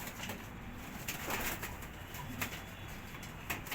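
Pigeons in Egypt give soft, repeated coos close by over a constant background hiss.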